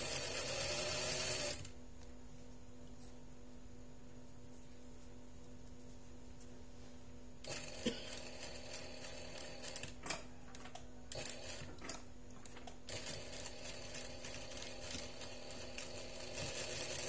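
A sewing machine stitching a fabric tissue-box bag with a hand sanitizer pocket. It runs loud and fast at first, then stops and starts in short rattling bursts against quiet room noise.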